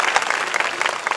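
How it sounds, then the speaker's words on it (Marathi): An audience at a kirtan festival event in Malegaon bursts into brisk, dense clapping, loud and close, filling a brief moment with no speech on top. "जोरदार टाळ्या वाजून आपण या कार्यक्रमात सहभागी व्हायचंय"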